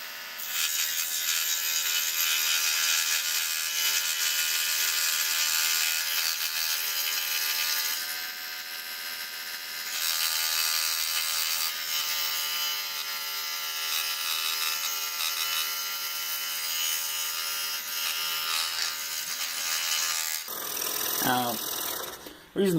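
A scroll saw cuts a 3/4 inch oak puzzle, a steady loud buzzing drone with the warped piece rattling against the table throughout, pausing briefly before a final stop.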